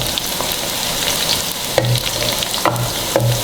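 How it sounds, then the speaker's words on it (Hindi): Onions frying in a pan for a chicken daleem, with a steady crackling sizzle and a few soft stirring scrapes near the end. "देखें हमारा प्याज पिंक होने को जा रहा है।"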